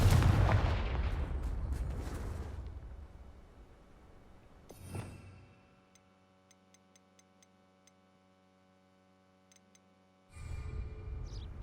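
A Confringo fire spell blast in Hogwarts Legacy: a loud, dense burst dominates the opening seconds, a sharper second hit follows midway, then steady soft tones and light ticking carry on before another burst at the end.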